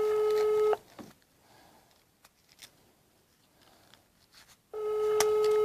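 A telephone ringback tone during a prank call: a steady ring at the start and another at the end, with a quiet pause between them. No one speaks.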